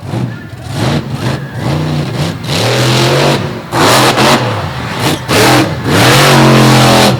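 Chevrolet dirt track race car from Indiana warming up, its engine revving repeatedly in loud rising and falling surges with brief lifts between pulls, close by.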